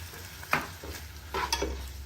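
Mixed Italian pasta ingredients, seasoned with salt, sizzle softly in a pan under a steady frying hiss, with a few brief stirring scrapes and clinks.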